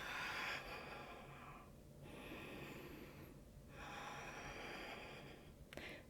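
Slow, deep breathing during a yoga locust pose, close and soft, with long drawn inhales and exhales alternating in broad airy swells and brief pauses, no talk.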